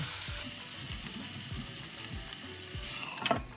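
Dal ingredients cooking in an Instant Pot, a steady soft sizzle and bubble with faint periodic low thumps, close and even throughout, with a brief louder clatter near the end; no voices.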